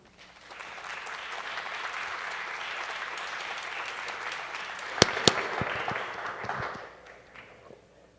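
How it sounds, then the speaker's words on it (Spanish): An audience at an academic colloquium applauds the final panel. The clapping swells quickly into a sustained roar, a few sharp loud claps ring out near the middle, then it fades away. "reciban un cordial aplauso"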